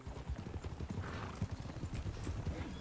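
Steady clip-clop of horse hooves trotting at a regular rhythm in the video game RedM, fairly close, with a low rumbling background and no voices.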